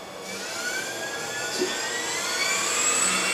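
A Hyper-Drive electric motor spins up with a smooth, steadily rising whine and rich overtones climbing in pitch, loud and close with no talking.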